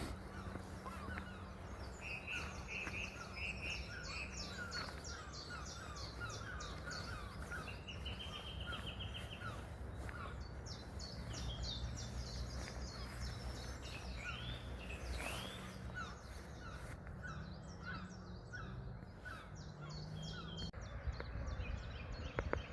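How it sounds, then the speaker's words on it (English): A song thrush sings repeated varied phrases in bursts, clear and fairly close, over a quiet outdoor background with low rumble in a Yorkshire country park. "I think it's a song thrush."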